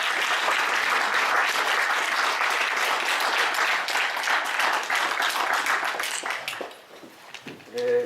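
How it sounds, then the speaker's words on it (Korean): Church congregation applauding: dense, sustained clapping from a crowd, steady and loud for about six seconds before thinning into scattered claps and fading near the end. "우리 두 분에게 박수를 드립니다."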